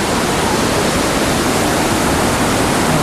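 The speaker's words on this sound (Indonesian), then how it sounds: "Mereka sedang bermain uap air terjun ini." A waterfall roars steadily and loudly at close range, its pressurized spray and mist making a dense, unbroken rushing wash with no voices.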